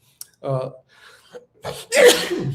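A person inhales audibly, then lets out a loud, forceful sneeze close to the listener, with brief voiced sounds before it.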